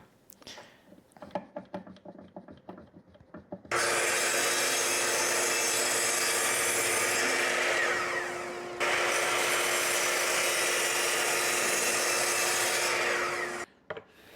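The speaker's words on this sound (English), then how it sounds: "set up my miter saw to cut the 1 inch spacers" A miter saw cuts 1-inch wooden spacers: after some light handling noise, a loud, steady blade roar runs for about ten seconds, dips briefly at a pass, then stops abruptly with a short clatter.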